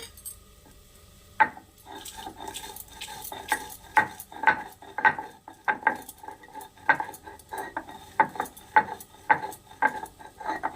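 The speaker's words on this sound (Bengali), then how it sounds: "এই যে যে পাঁচফোড়ন আর লঙ্কাটা বেজে রেখেছিলাম তো সেটাকে গুঁড়ো করে নেব" Roasted panch phoron and chillies are ground to powder, heard as a steady series of sharp knocking and scraping strikes, irregular but repeated, close and fairly loud.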